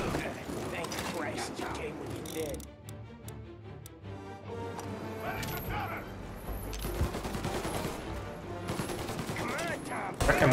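Gunshots ring out in a shootout in the video game Mafia Definitive Edition, irregular bursts of gunfire and sharp cracks spread over the scene with game music and voices talking underneath.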